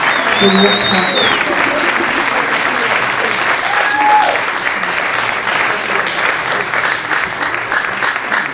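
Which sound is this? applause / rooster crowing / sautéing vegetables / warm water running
applause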